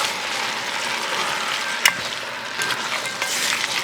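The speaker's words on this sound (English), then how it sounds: "So you want to stir those in" Hard vegetables being stirred into a homemade vegetable beef soup pot: a continuous sizzle with occasional clicks and scrapes of the utensil, including one sharper knock against the pot.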